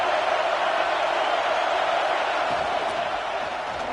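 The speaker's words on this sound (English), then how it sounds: "The crowd really making some noise now, trying to help out this defense to get this stop near the goal line." A football stadium crowd roars steadily as the defense tries for a stop near the goal line, a broad sustained wash of noise with scattered whoops, no clear talk.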